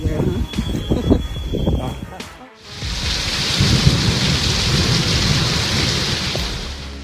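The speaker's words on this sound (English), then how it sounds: "A wild storm turned everything into a fog, with winds blowing over 50 mph, tearing off awnings and toppling many trees." A violent neighborhood windstorm with gusts over 50 mph brings heavy rain and thunder: after a brief lull, a loud, dense roar of pouring rain and wind takes over and holds steady, with muffled voices and movement heard before it.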